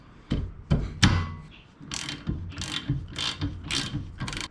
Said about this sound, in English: So you need 2 17mm sockets and put one on each side and crank them off.